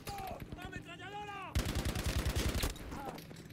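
Rapid bursts of machine gun fire from Battlefield V erupt loud and close after a quieter opening with a voice, chattering steadily for about a second before fading into background game noise.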